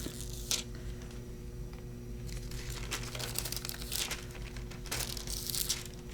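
Foiled paper Christmas sentiments are peeled off a sheet close by, making soft continuous crinkling and tearing rustles with several sharper crackles, quiet and with no voice over them.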